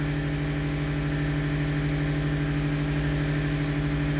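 Generator engine running after a manual start, a loud, steady mechanical drone with a strong low hum and even pulsing throughout, close by and alone.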